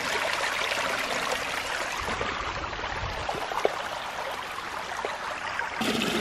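Water from a creek, backed up slightly with piled rocks after a flood, rushes into an intake as a steady broadband wash that holds at an even level for about six seconds, with no voices.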